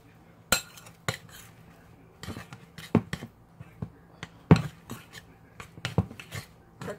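Almond flour is worked into keto fathead pizza dough in a bowl, making a string of irregular clinks and knocks from the utensil against the bowl, close and fairly quiet with gaps between strokes.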